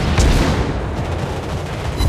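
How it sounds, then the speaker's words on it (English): Anti-aircraft guns on a Tier 6 USA cruiser Pensacola firing in World of Warships Blitz, a loud dense barrage of continuous rapid booms that blur together with no gaps. "Anti-aircraft gun on full alert."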